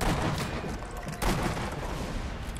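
Tank gunfire and battle noise in the Sniper Elite V2 video game, a dense continuous roar of shots with a sharp louder blast near the middle, loud and steady throughout.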